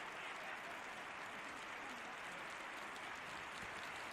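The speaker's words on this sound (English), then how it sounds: "Generous round of applause from him." Home-side crowd at a 2022 J2 League football match between Albirex Niigata and Ventforet Kofu applauds a substituted player, a faint, distant, continuous wash of stadium clapping and crowd noise.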